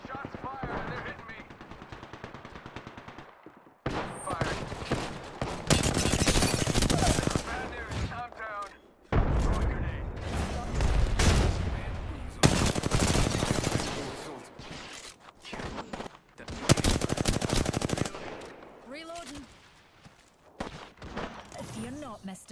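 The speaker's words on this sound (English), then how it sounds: "shots fired and they're hitting me" Rapid gunfire from Apex Legends weapons rattles in loud, dense bursts through most of the stretch, with brief lulls between volleys, while a player talks over the shooting.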